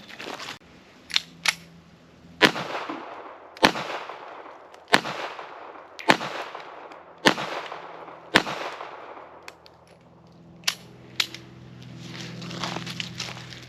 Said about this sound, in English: I'm going to run a full mag of the full metal jacket, and we're going to hit this TV